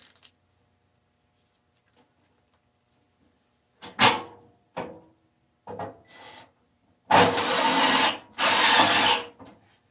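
A power drill drives screws into a furnace blower housing in several short whirring bursts that grow longer toward the end, close and loud, with quiet gaps and light handling noises between them.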